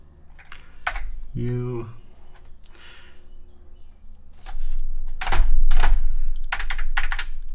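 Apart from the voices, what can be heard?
typing on an Atari 1040 STF computer keyboard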